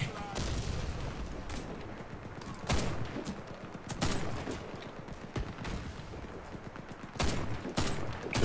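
Gunfire in the video game Warface: scattered bursts and single sharp shots crack irregularly over a continuous wash of battle noise, moderately distant and fairly faint overall.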